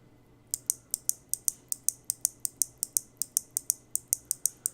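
Kailh Box Navy mechanical switches clicking after a brief silence, a regular series of loud, sharp, heavier clicks close to the microphone, with a low hum underneath and no speech.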